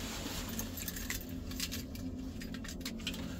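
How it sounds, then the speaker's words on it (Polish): Original Land Rover Discovery V8 car keys jangling steadily up close, a continuous bright metallic clinking with no voices. "Oryginalnie Land Rover ma takie kluczyki."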